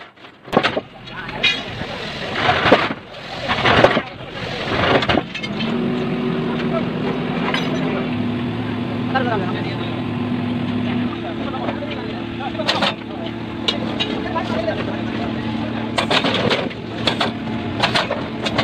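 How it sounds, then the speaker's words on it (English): Track renewal train at work, its conveyor belts carrying railway sleepers with a continuous mechanical drone and rumble, scattered clanks over it, and speech mixed in. "Sleepers are running on the conveyor belts."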